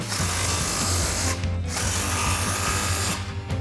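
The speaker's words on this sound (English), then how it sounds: "We're gonna grab our impact and 15mm socket and tighten these 2 down." A power impact wrench with a 15mm socket tightens factory exhaust clamps on a 2014-2019 Corvette C7 axle-back exhaust, a loud close whirring buzz running steadily with two brief pauses.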